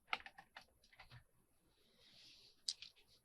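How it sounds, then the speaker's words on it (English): Scissors trimming fabric off the cloth cover of a book spine, heard as a few soft, close snips and crisp clicks in a quiet room, with a faint brushing sound partway through. "We're going to trim this fabric off."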